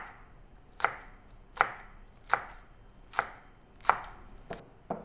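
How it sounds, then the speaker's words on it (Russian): A knife chops green onion on a board in slow, deliberate single strokes, six crisp close knocks spaced under a second apart, with nothing else around them. "давайте еще немножко зеленого лучка и все аккуратненько режем"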